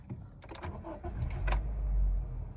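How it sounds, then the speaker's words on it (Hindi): A petrol sports sedan's engine cranks and catches with a short start-up burst, then settles into a low, quiet idle, heard close by with a few small clicks beforehand. "Let's turn on the engine."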